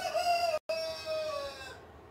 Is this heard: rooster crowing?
yes